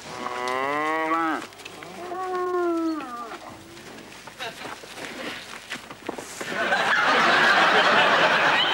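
Two long, drawn-out cow moos up close, followed by rustling and murmured voices, then a burst of broad noise.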